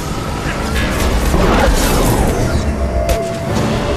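Weapon fire destroying a target in the video game Mass Effect 2, a loud burst of crashing, mechanical impacts and a rising boom mid-clip, followed by a sharp clank and fading debris.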